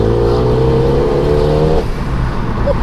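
A Clubsport-spec car's engine pulls hard through a roundabout with a limited-slip differential, a loud steady drone with rising tone that eases off near the end, heard close from inside the cabin.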